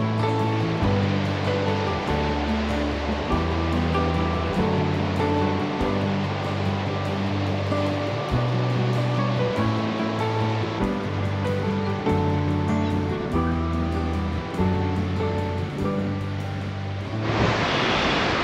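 Surf breaks and washes continuously on Combe Martin beach in North Devon, a steady roar of waves, with a gust of wind buffeting the microphone near the end.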